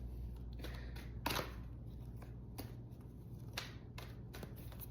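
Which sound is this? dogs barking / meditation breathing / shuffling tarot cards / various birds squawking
shuffling tarot cards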